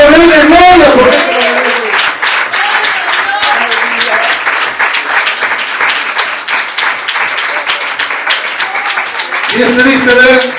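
A church congregation claps loudly and steadily for several seconds, dense rapid applause filling the room, with a voice speaking over it at the start and end.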